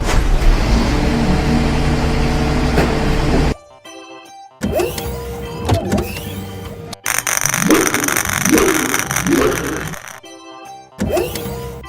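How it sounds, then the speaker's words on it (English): A green garbage truck engine runs loud and steady, then cuts out and returns in several bursts of revving and clattering with brief quiet gaps between them. "Green garbage truck."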